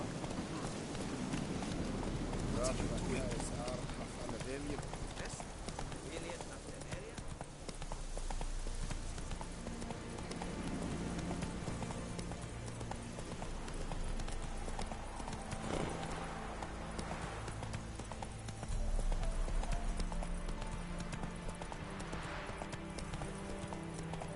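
Horse hooves galloping in The Witcher 3, a steady rapid clip-clop that runs throughout alongside game music and effects, with the horse neighing at times.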